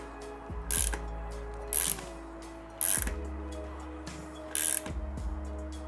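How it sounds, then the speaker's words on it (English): A socket wrench ratchets a crank puller tool on BMX cranks of a fixed gear bike, sounding as four short, close clicking bursts of ratcheting spaced about a second apart over a low steady mechanical hum. "So you're gonna switch your socket wrench to loosen, spin the tool out."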